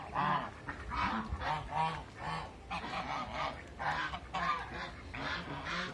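American ducks honking and calling in a flock, with repeated loud, harsh nasal calls overlapping one another in quick bursts throughout, close by and with no talking.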